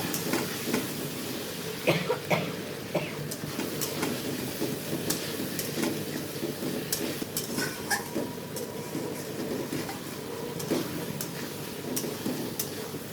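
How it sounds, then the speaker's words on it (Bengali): Potatoes and soya chunks stir-fry in ground nut paste in a pan, a continuous close sizzle broken by frequent clicking scrapes and taps of a spatula, with no talk. "দিয়ে কিছুক্ষণ ধরে আমি কষিয়ে নেবো"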